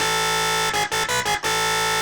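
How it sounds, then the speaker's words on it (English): Womp bass synth in Reason with the shaper switched on and sine amount near 77, a loud, dense distorted tone broken by a few quick rhythmic wobble chops before settling back into a steady buzz. "So the shaper is pretty key in this bass synth."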